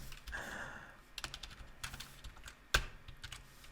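Soft computer keyboard typing during a coding session: irregular clicking keystrokes with one sharper tap, quiet and close, with no talking.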